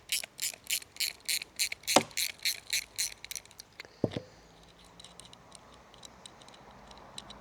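A 13mm spanner undoes bolts on a motorcycle screen, a quick run of about a dozen sharp ratcheting clicks followed by a couple of metallic knocks, then a few faint, scattered ticks.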